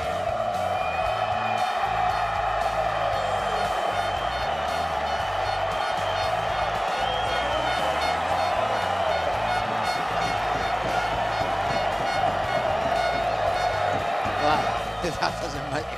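A home crowd at a MotoGP race cheering as Valentino Rossi leads: a loud, sustained roar of the crowd with whistles and a high engine whine layered in, while a commentator talks over it throughout.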